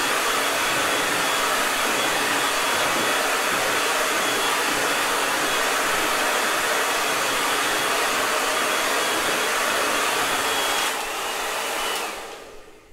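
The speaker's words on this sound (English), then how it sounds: "you can use a hairdryer" A hair dryer blows with a loud, steady whoosh for several seconds, then cuts off and winds down near the end.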